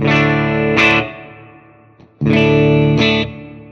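Electric guitar played through a Fender Mustang Micro Plus headphone amp on its '65 Twin Reverb model, two loud sustained strummed chords each ringing out and decaying, separated by a short near-silent gap, with no talking.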